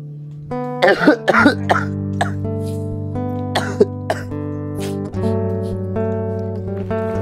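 A person coughs repeatedly in short, harsh bursts over sustained background music, some coughs bunched together and others spaced apart.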